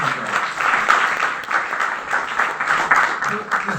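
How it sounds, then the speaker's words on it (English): An audience claps in sustained applause, a dense, even patter of many hands holding steady at moderate loudness throughout. "a round of applause for her because I think she's done a wonderful job"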